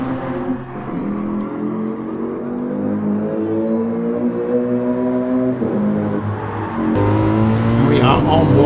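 Race cars in a racing video game roar off the start, engines droning steadily and climbing in pitch through the gears, loud and close, with a fresh engine surging in near the end.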